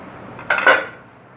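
Metal spoon scraping and clinking against a cooking pot while potato rice is served out, a brief pair of close, bright clinks and a scrape.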